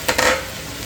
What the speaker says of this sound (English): Okay, so let's dump in the shrimp.